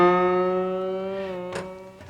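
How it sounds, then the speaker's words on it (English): A sustained, harmonically rich musical note rises gradually in pitch over about two seconds, loud and steady, with a brief noisy click near the end. "You can make this note go higher in pitch, like this, and it sounds like this."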